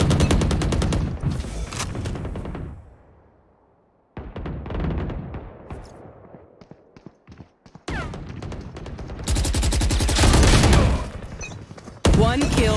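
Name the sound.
Vandal rifle gunfire in a video game, likely Valorant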